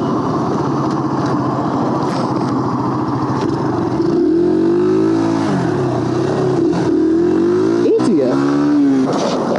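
A Yamaha YBR 125 motorcycle with an aftermarket exhaust idles with a raspy rumble, then revs up sharply twice with rising and falling whines, loud and close.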